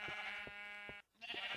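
Sheep in a blocky video game bleating, one long wavering call followed by a brief gap and another starting, close and fairly faint.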